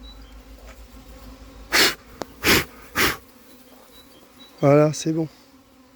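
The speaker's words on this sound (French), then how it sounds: "quand on fait sortir les abeilles de la voiture, elles volent au-dessus un peu, puis elles viennent se reposer sur le carton" A swarm of honeybees released from a car and box hums faintly and steadily, broken by several loud close bursts. Someone speaks briefly near the end.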